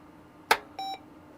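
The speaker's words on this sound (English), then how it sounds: "we get one beep and an FF" A PC motherboard fitted with an AMD processor gives a single short electronic POST beep, clear and close, just after a brief click, with no talk.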